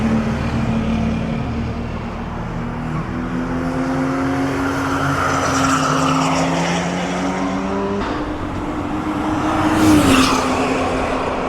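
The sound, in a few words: BMW E36 325i driving on an F1 track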